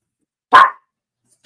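A chihuahua lets out a single sharp, high bark, loud and close, followed by silence and the start of another bark at the very end.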